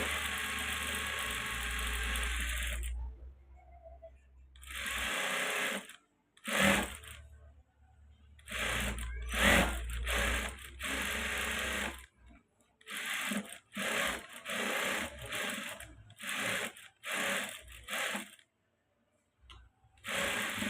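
A sewing machine stitching the neckline of a blouse runs in repeated bursts, a steady mechanical whir that starts and stops many times with short pauses between runs.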